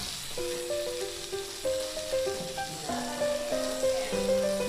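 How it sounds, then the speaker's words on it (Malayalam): Chopped tomatoes fry and are stirred in a pan for a spicy liver pepper fry, giving a steady close sizzle with stirring scrapes under soft background music. "ഇനി നമ്മൾ നേരത്തെ അരിഞ്ഞു വെച്ച തക്കാളിയും കൂടെ ഇട്ട് നന്നായിട്ടൊന്ന് മിക്സ് ചെയ്യാം"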